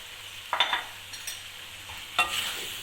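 Pre-fried vegetables tipped into a pan for chicken jalfrezi, with two scraping, clattering stirs of a spatula over a quiet sizzle, close and short.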